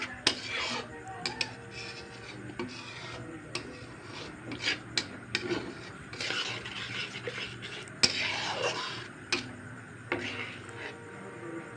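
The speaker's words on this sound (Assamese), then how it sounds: "ঘনাই ঘনাই মই লাৰি দি আছোঁ যাতে কেৰাহীত লাগি নাযায়।" A ladle scrapes and rubs steadily around a kadai as a paneer, chickpea and potato curry simmers with added water, making a close rasping metal-on-metal sound with small clinks and no talking.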